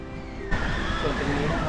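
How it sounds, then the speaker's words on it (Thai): Strong wind and rough waves wash across an artificial sea pool at the Centre Point Prime Pattaya hotel. A steady broadband rush swells louder after a brief quieter opening. "ส่วนน้ำทะเลเทียมดูแล้วคลื่นก็แรงลมก็แรง"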